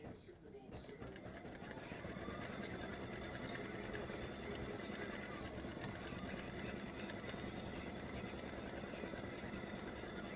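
A home embroidery machine stitches a freestanding-lace Valentine dangling hearts ornament, its steady, rapid mechanical chatter running continuously and fairly close after a brief quieter start.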